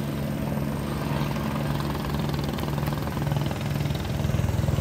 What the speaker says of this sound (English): there's a real expensive helicopter on the right-hand side here